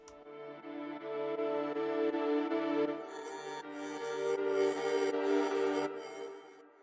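A droning meditation-trio vocal chant, gritty from bitcrushing and washed in reverb, swelling and then pulsing rhythmically toward the end, heard alone.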